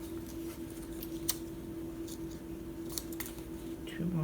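Scissors snip at the corners of a paper tag, a few crisp cuts close by over a steady low hum, with faint talk nearby.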